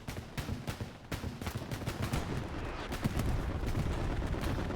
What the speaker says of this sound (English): We have a strafing run about to come in.